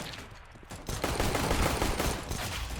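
Rapid bursts of gunfire from a CS:GO match, a quieter opening half-second giving way to sustained loud firing that carries through to the end, with no talking.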